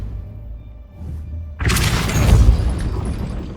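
A Depulso spell going off in the Hogwarts Legacy video game: quiet ambience, then a sudden loud booming blast that swells and rumbles on to the end.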